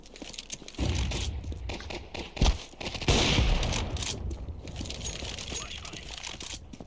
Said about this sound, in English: Grenade out. Throwing flashbang.